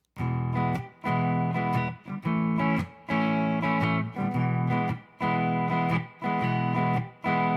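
A guitar strums a repeating 12-bar blues progression, I-IV-I-I, each chord ringing for about a second with brief gaps between, played clearly and close.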